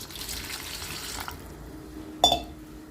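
Water is poured in for making ambali flour porridge, a soft running trickle at first, then a brief splash and clink in the vessel, quiet and close.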